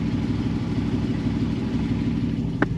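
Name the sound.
2009 Jeep 6.4L 392 Hemi engine idling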